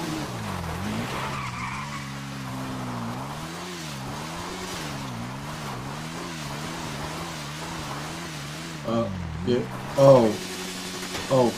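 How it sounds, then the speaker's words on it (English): A car in GTA skids after its back tire is popped, a long wavering tire squeal dominating throughout, with voices and faint engine noise underneath and a few sharper bursts near the end. "Yeah, the back tire got popped."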